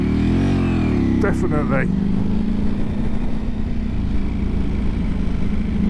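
Engine of a 2024 Ducati Panigale V4S sport bike ridden on the road, a steady loud low drone running throughout, with someone speaking briefly over it near the start.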